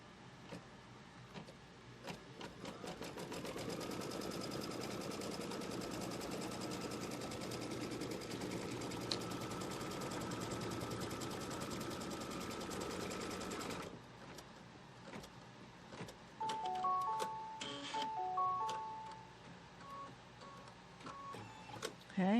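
A sewing machine tacks down quilt fabric along a quarter-inch seam allowance with a close, steady, fast stitching rattle for about fourteen seconds, then stops, leaving quieter handling noises and a few short electronic beeps.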